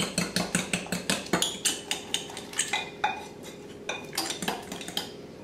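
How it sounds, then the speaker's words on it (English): A fork mixing gluten-free batter in a dish for toad in the hole, a rapid run of sharp clinking taps against the dish with brief pauses, close and distinct with no talking. "I tend to use a fork at first just to kind of get rid of any big lumps and then go on to the whisk."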